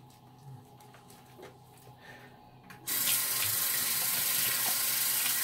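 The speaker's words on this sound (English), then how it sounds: "Let me rinse off my brush real quick while this is lingering in." Cold water tap turned on full, running steadily and loudly as a shaving brush is rinsed under it after a soap lather, a continuous close hiss that starts abruptly partway through.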